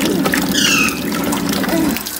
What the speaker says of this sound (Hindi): अभी ये पानी निकालते हैं गीज़र से गर्म